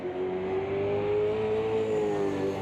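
A Super V8 race car engine in a PC racing simulation at Bathurst holds a loud, continuous high drone, its pitch creeping slightly upward and then easing, with no talk over it.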